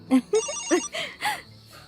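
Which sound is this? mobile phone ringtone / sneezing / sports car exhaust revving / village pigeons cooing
mobile phone ringtone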